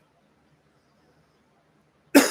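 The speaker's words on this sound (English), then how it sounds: "That cough is coming back." Near silence, then a single sharp cough bursts out close by at the very end.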